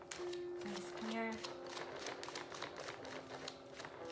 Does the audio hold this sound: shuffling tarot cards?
yes